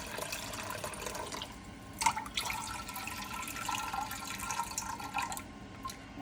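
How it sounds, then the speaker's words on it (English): Water pours into a pot and then a small bowl outdoors, a steady splashing trickle with a brief louder splash midway, close and continuous. "I'm going to pour water inside a pot I have, and also inside this little bowl."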